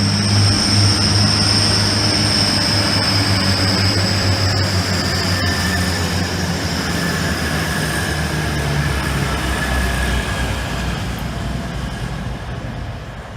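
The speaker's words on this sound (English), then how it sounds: "The 11:47 East Midlands Railway service from London St Pancras to Nottingham" East Midlands Railway service from London St Pancras to Nottingham passing, a loud, steady rumble with a droning engine tone that slowly fades as the train moves off.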